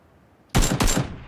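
Rifle gunfire in the PUBG battle royale game: after a quiet moment, a loud, close burst of rapid shots, in two quick clusters, dense and punchy.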